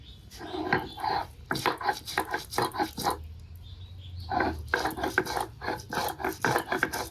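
Ginger ground into paste on a grinding stone, with rhythmic rough rasping strokes in close, steady bursts, a short pause midway, and a faint low hum underneath.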